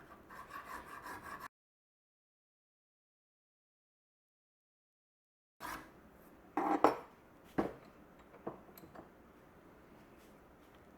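A hand file works the grind side of a steel knife blade in short rasping strokes, a quiet scraping burst at first, then after a pause several louder, separate scrapes and clinks at close range.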